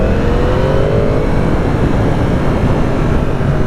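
Loud, constant wind roar rushing past a rider on a 2018 Yamaha R1 motorcycle, with engine drone beneath it and no voices.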